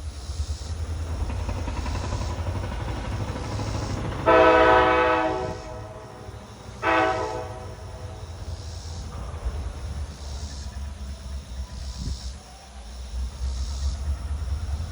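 A train horn sounds two blasts, a long one followed by a shorter one, over a steady low rumble of passing rail cars.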